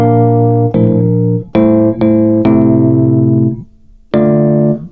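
Piano chords struck one after another in Kontakt 8, a loud sustained chord ringing out after each strike, about six in all at an uneven pace with short gaps, played alone.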